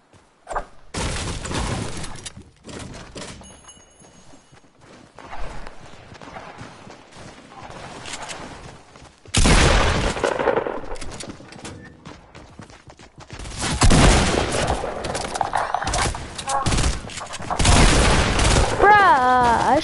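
Rapid bursts from a tech SMG in a Fortnite match, loud clusters of gunfire with explosive booms and shattering debris, separated by quieter stretches with some voice chatter.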